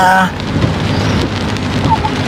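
Steady heavy rain hiss during flooding in Mindoro, Philippines, fills the scene, a dense broadband wash with a brief voice-like tone at the start, continuous and close.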